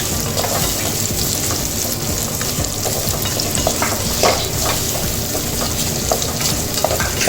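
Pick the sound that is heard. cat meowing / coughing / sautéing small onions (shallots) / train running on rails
sautéing small onions (shallots)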